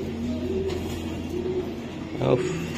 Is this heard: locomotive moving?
no